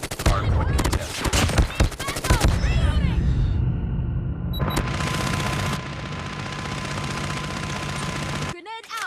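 Bursts of automatic gunfire and sentry-gun shooting crack through a first-person shooter match, with rapid, loud volleys in the first few seconds followed by sustained firing and game voice lines over the action.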